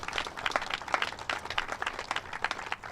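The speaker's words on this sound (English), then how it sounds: "Let's give them a round of applause today." Audience applause at an outdoor ribbon-cutting ceremony for a highway flyover in Fayetteville, a dense patter of many hands clapping steadily throughout, moderately loud.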